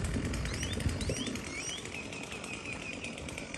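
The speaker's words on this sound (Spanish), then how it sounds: "Miren, los pájaros nos dan la bienvenida." Birds flap their wings loudly in the first second, close by, over a steady outdoor background with some chirps mixed in beside a pond of stagnant water.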